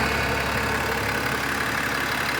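A 3.0 Duramax diesel in a Chevrolet Silverado idles with an S&B aftermarket intake, giving a steady, close engine hum with a constant airy sucking rush and no talking.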